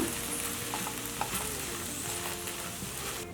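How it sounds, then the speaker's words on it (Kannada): Cooked horse gram being stirred in a pan, a close sizzle with light scraping and clinks of a spoon against metal at an unhurried pace, no one talking. "ಬೆಂದಿರೋ ಹುರುಳಿಕಾಳು ಮಿಕ್ಸ್ ಮಾಡ್ಕೊಳ್ಳೋಣ."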